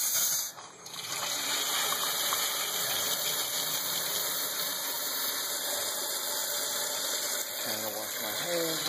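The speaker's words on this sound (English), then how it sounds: "just run the water till it starts acting normal" Water gushes steadily from a faucet on newly soldered copper pipe with its aerator removed, a dense continuous rush that holds loud and close for the whole stretch, with a brief dip near the start.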